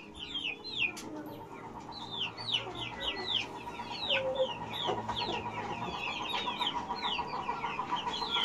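A young chick of a Raptor-line rooster gives rapid, repeated high chirps and cheeps over a steady low background hum, close to the microphone and continuous throughout.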